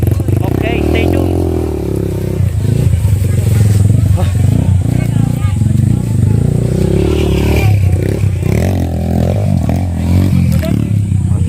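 Enduro motorcycles idle and rev nearby at an enduro-cross event staging area in Bacnotan, a steady engine rumble under loud crowd chatter and people talking.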